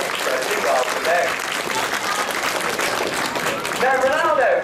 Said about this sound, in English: we want a nice big round of applause for him